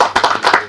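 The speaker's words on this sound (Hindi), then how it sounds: "पहले तो आधे मिनट की ताली बजनी चाहिए." Audience at a film screening clapping, close, loud and uneven individual hand claps in a quick irregular patter.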